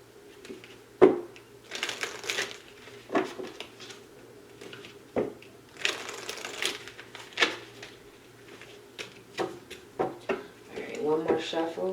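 Tarot cards shuffled by hand in a quiet indoor reading, soft irregular riffling and slapping strokes at close range, with a faint steady hum beneath.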